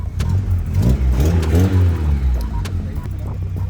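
Volkswagen Golf GTI Mk2 engine revving hard through its aftermarket muffler, a loud close rise and fall of several throttle blips with a possible exhaust manifold leak, with voices talking faintly alongside.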